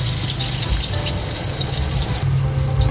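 Water is poured into a cooking pot while dinengdeng with tilapia is being prepared, a steady loud gushing stream with splashing, close by and without talk.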